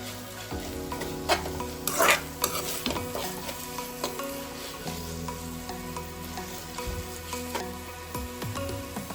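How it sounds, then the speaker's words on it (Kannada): Chicken lollipop marinade with soy sauce and vinegar is stirred by hand in a bowl, a continuous wet, squelching mix with scattered scrapes and taps, close up and without talk. "ನಾನು ಇವಾಗ ಚೆನ್ನಾಗಿ ಮಿಕ್ಸ್ ಮಾಡ್ಕೊಳ್ಳಿ."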